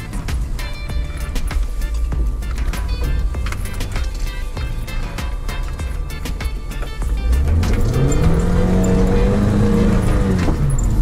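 A 4x4 crawls slowly through deep snow, its engine droning low and steady with scattered clicks and knocks. Near the end the revs climb and the tone rises.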